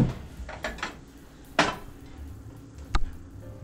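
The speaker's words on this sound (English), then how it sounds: "you are going to put your noodles in your casserole dish" Dry pasta noodles tipped into a casserole dish for tuna noodle casserole, giving a few scattered clattering knocks and a sharper clack near the end, close by in a quiet kitchen.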